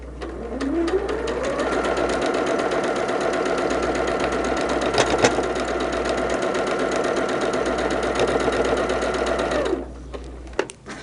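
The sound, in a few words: sewing machine sewing long stretches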